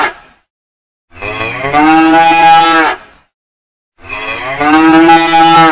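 Cattle mooing during Thomas and Friends toy train play with a cattle wagon: two long, loud, drawn-out moos, each rising then holding steady, separated by a short silence, with no talking over them.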